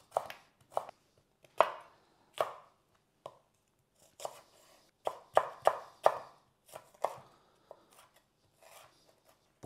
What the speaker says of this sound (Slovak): Zeleninu umieme a nakrájame na tenké pasiky.